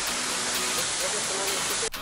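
A mountain waterfall pours in a dense, continuous hiss at close range, steady throughout, with a brief dip just before the end.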